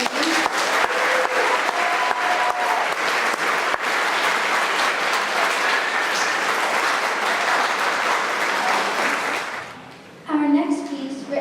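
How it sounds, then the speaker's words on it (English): Audience applause at a school spring band concert, sustained dense clapping filling the room for about ten seconds before fading out, followed by a brief spoken voice. "Can you give them one extra round of applause for me?"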